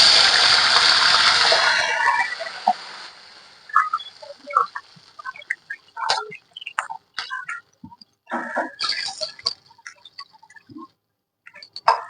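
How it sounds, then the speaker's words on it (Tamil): Water is poured into a hot pan of oil for rava kesari, giving a loud initial hiss and rush for about two seconds, then fading into scattered crackles, pops and drips. "1க்கு 2 தண்ணி சேர்த்துரும்."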